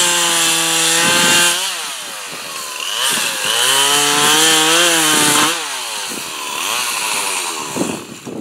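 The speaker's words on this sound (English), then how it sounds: "Since the chainsaw is still running, we're going to take advantage of it and keep on cutting for a while." A Craftsman chainsaw runs loud and close as it cuts wood, its engine note rising and falling through several bursts of revving and cutting, with no talk.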